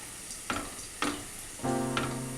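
Vermicelli payasam with coconut milk gets stirred in a pan. Three scraping strokes about half a second apart run over a soft bubbling simmer.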